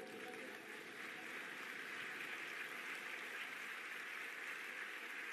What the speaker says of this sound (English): Please, round of applause for the judges.